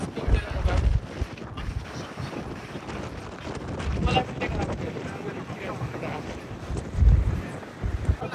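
Wind buffets the microphone on a ship ride at sea off Kobe, Japan, with a low rumbling roar, gusty swells and faint background voices.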